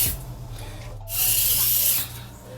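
A burst of aerosol spray hisses for about a second, close by, over a low steady background hum.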